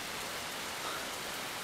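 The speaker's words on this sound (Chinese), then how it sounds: "天下雨了" Steady rain falls without a break, a dense, even hiss like rain on a surface, with no talking over it.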